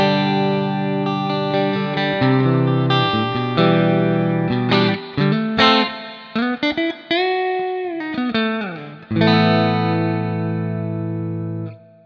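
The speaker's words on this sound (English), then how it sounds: "I feel like the Marshall spring reverb is one of my favorites" Clean electric guitar through a simulated Marshall spring reverb in Amplitube 5, sustained chords and single notes ringing with a lush, shimmering wash, loud and alone, with brief gaps where the reverb tails trail off.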